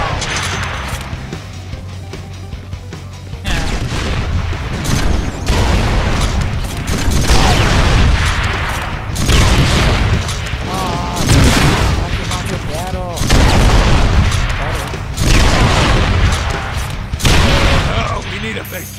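Explosions and gunfire in the Deadpool video game, loud repeated booms and crashing blasts in bursts over a game soundtrack, with voices talking throughout.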